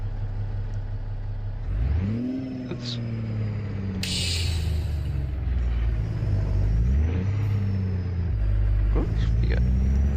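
A truck engine in a modded convoy driving game revs repeatedly, rising and falling in pitch over a steady low rumble, with a person talking briefly over it.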